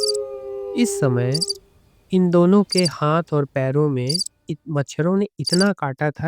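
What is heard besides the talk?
crickets and night insects chirping in forest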